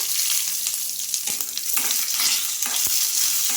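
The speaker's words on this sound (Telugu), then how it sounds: "మనకు ఇవన్నీ బాగా వేగాలండి" Chopped chillies and tomatoes fry in hot oil in a pan, a steady bright sizzling hiss with a few soft stirring knocks, close and continuous, with no voices.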